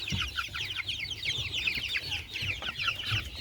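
Young Faverolles chickens cluck and cheep together in a close, busy run of soft chirps and low clucks, steady throughout with no talking.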